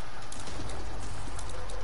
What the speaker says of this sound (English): Is it still raining outside? Yes. Yes, it is.